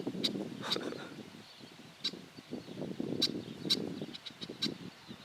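Songbird singing along a rural Amish farm road, repeated short bright chirps and whistled phrases at moderate distance over a low murmur of outdoor ambience and rustling.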